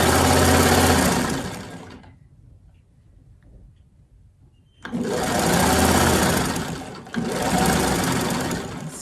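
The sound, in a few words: sewing machine stitching fabric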